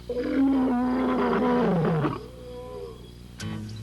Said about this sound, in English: Check out that roar.